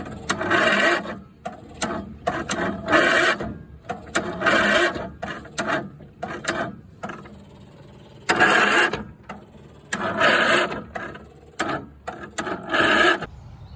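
Turning a stuck part with a socket wrench on a Cushman hydraulic dump bed: bursts of rasping, grinding metal in repeated strokes of about a second each, with short pauses between them, loud and close.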